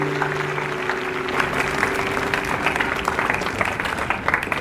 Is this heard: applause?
yes